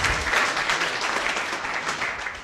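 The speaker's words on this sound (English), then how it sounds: "let's give our panelists a round of applause" An audience at a transit event applauds panelists with dense, sustained clapping that holds steady for a couple of seconds and then tapers slightly.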